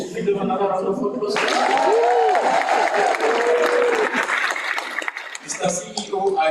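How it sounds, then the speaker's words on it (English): Graduates and guests at a spring graduation ceremony break into loud, full applause that swells and holds, with a voice and scattered cheers over the clapping before it tapers. "Can we do another round of applause?"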